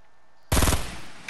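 Burst of rapid gunfire in Fortnite, loud and close, a quick volley of pistol shots starting abruptly after a quiet lead-in, then a sustained rattling tail.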